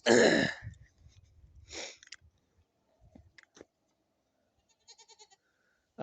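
Baby goats bleating, one loud close bleat at the start and a second shorter call soon after, then scattered faint rustles and small cries across a mostly quiet stretch.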